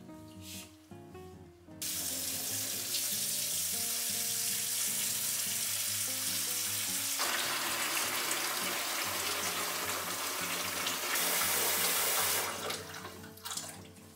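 Hot water runs steadily into a sink while dirty wool is rinsed by hand, a continuous loud hiss and splash that changes character midway, with brief clatter at the start and end.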